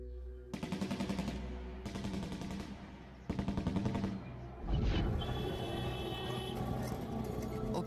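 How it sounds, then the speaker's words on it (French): Thousands of celebratory rounds fired into the air at a funeral in Pakistan: several sustained bursts of rapid automatic gunfire, separated by brief gaps, then a heavy boom and a mixed rumble of continuing shots and crowd noise. "des milliers de balles ont été tirées en l'air"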